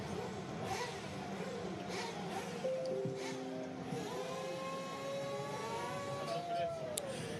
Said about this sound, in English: You can hear the cars. They're revving up, warming up their engines.